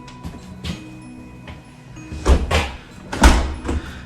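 The new front door of a house for sale in Melksham being opened, with a latch click, some handling knocks and then two heavier thuds as the door swings and settles, close and fairly loud.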